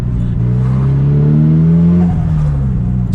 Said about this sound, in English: I'm going to show you guys my S15's like pop and crackle tune without a tune.